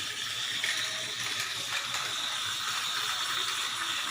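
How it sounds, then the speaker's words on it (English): A Tomy toy train engine on its original motor whirs and clicks continuously, a small geared mechanism with a steady ratcheting rattle, fairly faint and close. "Dodge still has his original motor, so this is his speed he can go."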